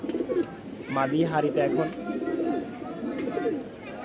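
A pair of fancy Bombay pigeons, a black male and a white female, coo softly in low repeated phrases under a voice speaking throughout.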